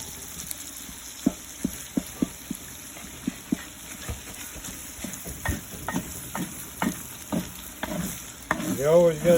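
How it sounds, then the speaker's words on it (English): Jambalaya frying in a pot and being stirred, with a steady close sizzle broken by repeated scraping strokes of the spoon and a bubbling, sloshing stretch at the end; no talking. "You always got to keep stirring."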